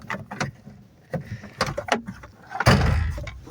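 Door of an old 1987 car, likely a Volkswagen Jetta, pulled open with clicks and rattles of the handle and latch followed by a louder thud, close by, with no talking.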